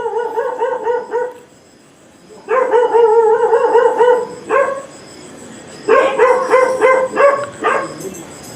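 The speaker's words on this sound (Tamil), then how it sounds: "இந்த நாய்க்கு என்ன பிரச்சனைன்னு தெரியல, கத்திகிட்டே கிடக்குது." A dog barks in repeated bursts, loud and close, with short yips in quick clusters separated by brief pauses.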